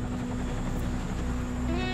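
Military helicopter drone with a steady low rotor hum and engine whine, constant and fairly distant, with no voices.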